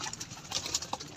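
Pigeons crowding up top to eat grain, soft coos and fluttery bird sounds close by in a brief quiet moment, no speech.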